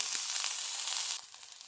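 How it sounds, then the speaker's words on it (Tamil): Steady hissing sizzle of onions frying golden in hot oil for carrot beans poriyal, close and continuous, easing slightly quieter toward the end. "வெங்காயம் பொன்னிறமாக வதங்கட்டும்"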